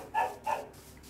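A dog in a survival video game gives two quick, moderately loud barks close together, then falls quiet.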